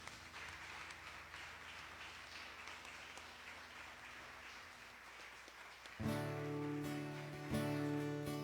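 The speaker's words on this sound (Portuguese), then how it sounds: "aplauda o Senhor." A church congregation claps at a Sunday evening service, a steady spread of applause running under faint background sound before organ or keyboard chords swell in loudly partway through.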